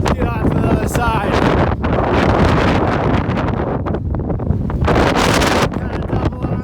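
Heavy wind roars and batters the microphone in continuous loud gusts on a mountain snowfield, with a voice faintly present beneath the rumble.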